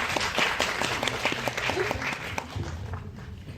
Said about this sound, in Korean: 큰 박수로 맞으시면 감사하겠습니다